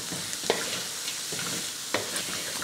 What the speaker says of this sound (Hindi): ये चीज़ें डाल के इनको थोड़ा सा इधर हिलाते